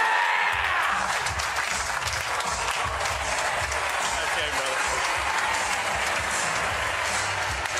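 Bowling alley crowd at a PBA event roaring with sustained applause and cheering after a strike toward a 300 game, loud and continuous, with a voice speaking briefly over the noise.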